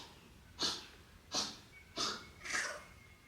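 A cat coughs four times in a steady rhythm, each a short, breathy hack about half a second apart, close and fairly quiet with no voices.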